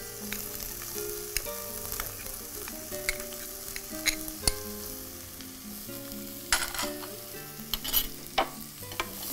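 Onion, carrot, beans and potato sauté in butter with a continuous sizzle, while frequent spoon clinks and stirring scrapes sound close and clear.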